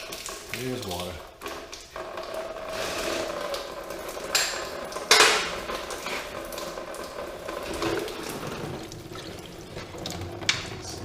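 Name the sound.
water draining from flooded Polaris Prowler clutch area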